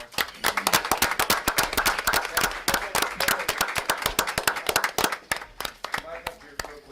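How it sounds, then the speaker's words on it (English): Applause at a school board meeting, dense rapid hand claps from a group, loud and sustained, thinning slightly toward the end, with voices talking through it. "Give them a round of applause."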